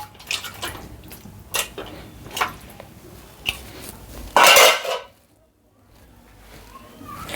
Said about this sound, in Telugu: ఇప్పుడు ఈ చికెన్ని బాగా కలుపుకుందాం, మసాలా ముక్కలకు బాగా పట్టేటట్టు కలుపుకుందాం